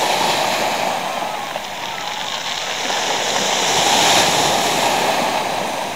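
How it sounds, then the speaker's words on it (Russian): Small sea waves wash continuously onto a beach at Lazarevskoye on the Black Sea after a storm, a steady soft rushing surf with gentle swells and some wind. "Ну, вот чуть-чуть набегает волна."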